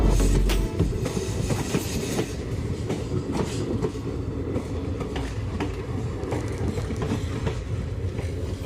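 A train pulls into Nawa City railway station on the Kuchaman City–Phulera line with a steady loud rumble of wheels on track, rhythmic clickety-clack over rail joints throughout, heard close and alone without voices.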